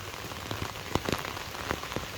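Raindrops patter steadily on a house roof, a dense soft hiss broken by scattered louder drips and taps at close range, with no voices.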